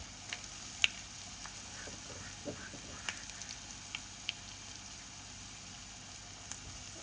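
Pepper rasam with crushed pepper, cumin and garlic simmering in a pot, giving faint, soft bubbling with scattered small pops and ticks over a quiet background.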